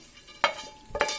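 Brinjal pieces land in a pan of hot oil and masala with two quick sizzling, scraping bursts over a faint background hiss.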